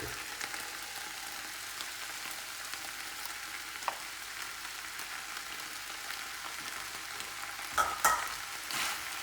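Sauce stirred into game meat frying in a pan gives a continuous soft sizzle with occasional utensil scrapes and clinks, heard close and fairly quiet.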